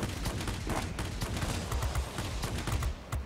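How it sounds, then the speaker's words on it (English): Aircraft cannons fire rapid bursts of rounds from a Ki-162-III fighter in the World of Warplanes video game, a dense crackling stream of shots at moderate loudness. "We got a few rounds out on him."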